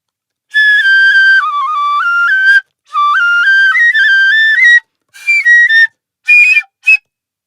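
A high-pitched Japanese fue bamboo flute from an Edo Bayashi festival ensemble plays a short, lively melodic phrase alone, with quick ornamented pitch slides and brief pauses between its final notes.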